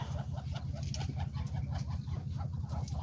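Chickens cluck and a rooster calls nearby over a steady low rumble, a busy farmyard chorus.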